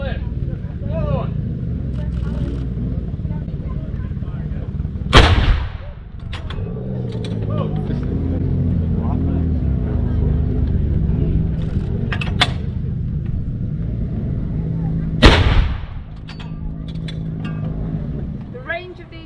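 Artillery guns firing at a War Wheels military vehicle event on a steam railway, two loud, sharp booms about ten seconds apart, with engine rumble, clanking mechanisms and people talking in between.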